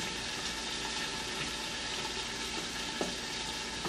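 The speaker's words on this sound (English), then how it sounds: "Mix that cream cheese in." Cream cheese is stirred into a creamy Italian chicken sauce in a pan, producing a soft, steady bubbling sizzle with faint stirring, close but quiet and without voices.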